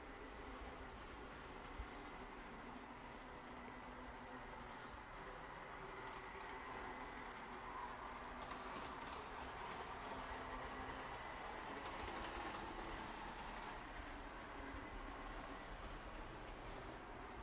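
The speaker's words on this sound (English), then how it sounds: "it's really exciting to see trains finally running on this layout." Model trains run on a home layout, making a faint, steady rolling rumble with light track clatter that continues throughout, with no voices.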